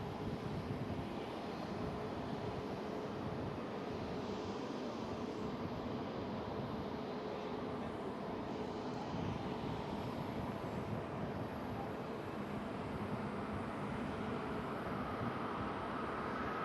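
Airbus A321neo jet engines spooling up at Schiphol, a constant low roar that fills the scene at a steady, fairly distant level with no talking.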